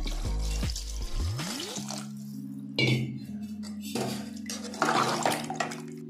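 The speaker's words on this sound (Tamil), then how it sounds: "தண்ணி ஊற்றிடுறேன்." Measured water poured into a pot of soaked basmati rice for mushroom biryani, a close, steady splashing pour with clinks of the vessel, under a few brief moments of talk.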